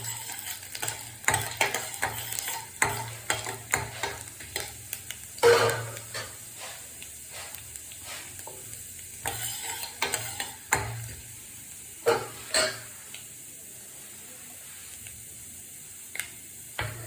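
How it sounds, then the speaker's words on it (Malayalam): Mustard seeds spluttering in hot oil while vazhapindi thoran is being made, with sharp scattered pops and crackles over a faint sizzle, bursts clustering unevenly throughout and close at hand. "കടുക് പൊട്ടി"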